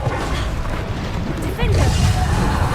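In the video game Hogwarts Legacy, a Bombarda explosion spell goes off during combat, a loud booming blast with crashing debris that bursts up midway over dense battle noise and a character's shouts.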